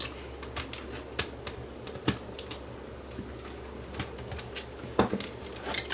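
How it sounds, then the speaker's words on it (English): Small screws being backed out of a plastic VHS tape cassette with a screwdriver, heard as scattered light clicks and ticks over a quiet background, with a few sharper snaps spaced irregularly. "Remove the 5 screws."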